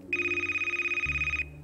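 A telephone rings with a continuous warbling electronic trill that is loud and close, lasting over a second before cutting off, with a low hum beneath.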